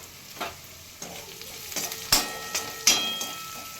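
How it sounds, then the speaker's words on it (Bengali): Onion with turmeric fries in a pan with a low, steady sizzle, broken by several scraping stirs and clinks of a spoon at irregular intervals, close up and with no voices. "প্রায় পেঁয়াজটা আমার ভাজা ভাজা হয়ে গেছে। এবার আমি একটু হলুদ দিয়ে দিচ্ছি ওর মধ্যে।"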